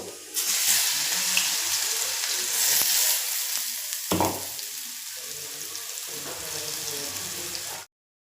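Ground masala with pieces of garlic frying in a pan, a loud, continuous bright sizzle with a brief sharp burst midway, then sizzling steadily before cutting off abruptly.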